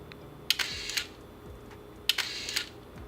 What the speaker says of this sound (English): One of the most unique characteristics of this camera is the sound of the shutter.